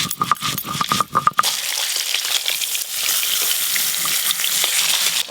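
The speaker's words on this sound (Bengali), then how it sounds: "অর্ধেক মাছ ভাজা হয়েই গেল" Pieces of silver carp sizzle steadily in hot oil in a home kitchen, a loud continuous frying hiss; a few clinks and stirring knocks come in the first second before the sizzle settles in.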